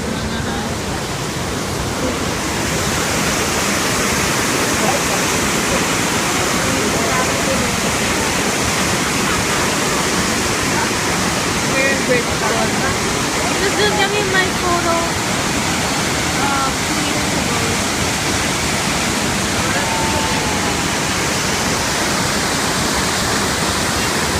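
Gray Falls waterfall roaring steadily and loudly up close, a dense continuous rush of falling water filling the whole clip without pause.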